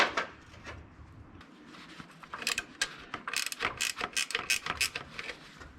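A hand ratchet clicks in quick, uneven bursts while tightening bolts on the intake manifold of a 1985 Camaro, close and fairly quiet, with no talking.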